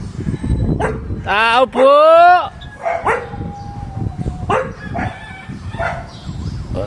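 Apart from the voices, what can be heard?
dogs barking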